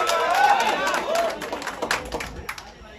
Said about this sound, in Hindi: एक ताली बजा के आशीर्वाद दे दें।